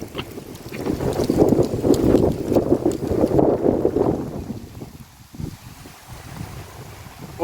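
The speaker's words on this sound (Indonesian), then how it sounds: "Masya Allah anginnya kencang banget guys" Strong stormy wind during a windstorm with heavy rain in Jeddah, roaring and buffeting the microphone in loud surging gusts that ease off toward the end, with no talk over it.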